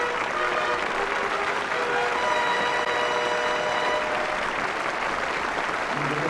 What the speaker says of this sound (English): Here the applause from the audience